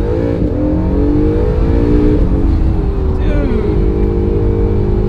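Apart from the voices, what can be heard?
sports car accelerating hard from a launch-mode start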